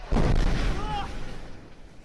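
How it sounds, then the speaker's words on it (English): A single heavy airstrike explosion during fierce fighting in the Middle East: a sudden deep boom from a distance, followed by a rumbling tail that fades over about two seconds. "Again, an airstrike is called in."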